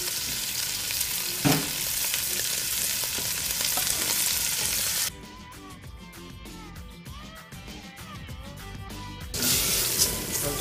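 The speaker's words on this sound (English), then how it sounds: "As you can see, we're getting a good sear going here" Salted short ribs sear loudly in a hot pan with a dense, crackling sizzle that softens for a few seconds midway, then returns to full strength.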